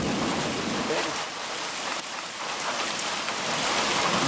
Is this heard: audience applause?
no